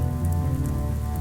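Rain falls steadily, a dense, even hiss of drops on a surface, close and moderately loud, with no voices.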